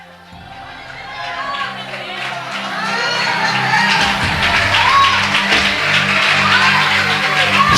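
A church congregation applauding at an anniversary service in São Paulo, clapping and crowd noise swelling from quiet to a loud sustained roar over music, with voices shouting along.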